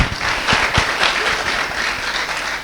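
A church congregation claps together in a burst of loud, close applause that holds steady through the moment and tapers slightly at the end.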